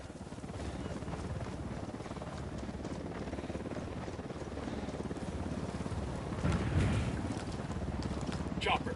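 Helicopter flying in the video game Ghost Recon Wildlands, a steady close rotor thrum and whooshing noise running throughout, swelling briefly near the end, with faint voices in the mix.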